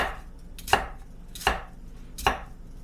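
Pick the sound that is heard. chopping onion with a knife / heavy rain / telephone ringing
chopping onion with a knife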